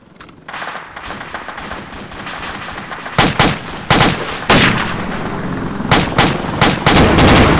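Gunfire in the military game Arma 2: a steady background of distant shooting, punctuated by loud, close single shots and short bursts that grow denser toward the end.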